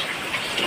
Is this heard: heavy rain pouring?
yes